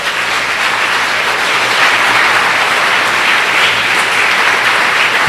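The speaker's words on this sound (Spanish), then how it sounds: "Aplausos al Rey." A church congregation bursts into sustained applause during a Spanish-language sermon, a thick, even wash of many hands clapping together, loud and near, continuing without pause and without speech over it.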